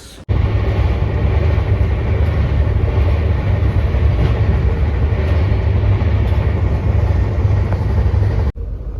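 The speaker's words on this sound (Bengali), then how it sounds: "ট্রেনের মধ্যে আমরা কেমনভাবে কেমনভাবে যাচ্ছি সেটা আমি দেখাবো" A steady, loud rumble and rattle fill the inside of a moving passenger train carriage on the route through Patna Junction toward Prayagraj. The noise runs unbroken for about eight seconds, then cuts off abruptly near the end, with no voices.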